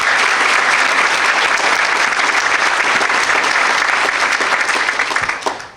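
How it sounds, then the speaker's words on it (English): A room of people at a St. Paul police Officer of the Year ceremony gives two retiring police chiefs a round of applause, loud and dense from start to finish, then thinning out at the very end. "Let's give those two chiefs a round of applause."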